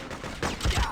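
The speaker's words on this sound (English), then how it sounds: "We're taking fire!" A short close burst of gunfire in Freedom Fighters, two or three heavy shots in quick succession over a rushing background.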